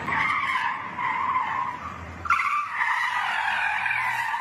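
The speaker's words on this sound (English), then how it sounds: "Watch as the driver of a white stolen Kia whips multiple U-turns in the middle of city blocks." Tires on a white Kia squeal in long, sustained skids as the car whips through repeated U-turns on city streets, loud and continuous, with a short break in the middle before the squealing resumes.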